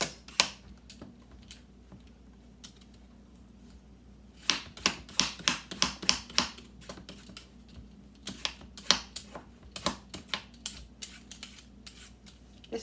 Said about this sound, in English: This peeler is being annoying